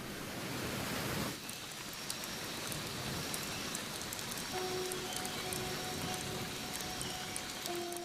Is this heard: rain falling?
yes